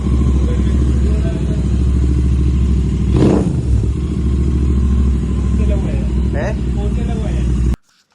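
A Royal Enfield Interceptor 650 motorcycle fitted with a Red Rooster exhaust and a K&N air filter rumbles at a close, loud, steady idle with a brief rev, then cuts off abruptly at the end.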